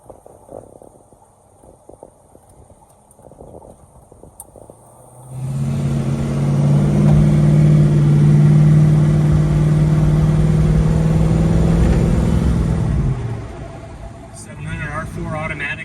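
A 1969 Chevelle SS with a 700R4 automatic fires up partway through and settles into a loud, close, steady idle rumble with a brief rise in revs, then drops back down near the end.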